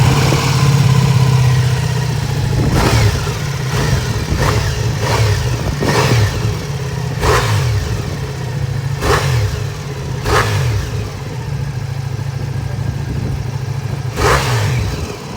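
A Ducati Multistrada V4 Pikes Peak motorcycle's engine idles steadily up close, broken by a series of sharp throttle blips and revs that rise and fall roughly every second or two, with no talk over it.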